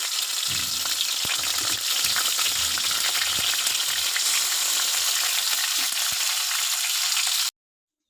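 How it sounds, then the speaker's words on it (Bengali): Fish heads fry in hot oil in a wok for muri ghonto, a steady, dense sizzle that crackles close and continuously for several seconds, then stops abruptly. "কড়াইয়ে তেল দিয়ে মাছের মাথাগুলো ভেজে নিব"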